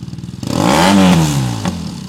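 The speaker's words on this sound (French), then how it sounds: "est-ce que tu peux nous faire écouter le bruit de J-Kill que j'ai essayé avec la Harley" A Harley-Davidson motorcycle fitted with a J-Kill exhaust, blipped once into a loud, deep rev that swells and falls back, followed by a short second blip, heard close up with no talking.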